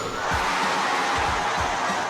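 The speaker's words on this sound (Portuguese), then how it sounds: "A cada cesta marcada, a torcida vibrava." A basketball crowd cheers in a gymnasium as the home team scores, producing a loud, continuous, echoing roar of voices.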